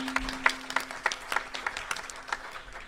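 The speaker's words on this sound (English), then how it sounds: "Can we get a round of applause for them, please?" Sparse applause from a small audience at a 2023 candidate forum in the North Bend Theater, with scattered individual claps over a steady low hum, moderately close.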